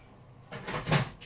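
An oven door swings open to take a chicken casserole, a short creaking, rattling thump building over about a second with a clunk at its peak, close and fairly loud, no talking.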